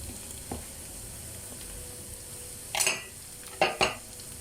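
Grated carrot and onions sauté in a pan with a faint, steady sizzle. A few brief utensil scrapes and clinks sound near the end, and no one speaks.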